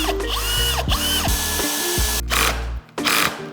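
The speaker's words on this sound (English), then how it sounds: "So we're pre-drilling where the screws will be attaching it to the base of the stand." A power drill bores pilot holes for screws into a wooden speaker stand, whining up and down in several close, loud bursts with short pauses between them.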